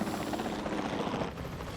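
Helicopter in the video game Jurassic World Evolution 2, a steady rotor drone and engine hum held at an even level throughout, close and continuous.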